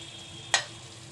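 Vegetable curry frying in a pan, a quiet steady sizzle with a single brief utensil tap, close and faint, with no speech.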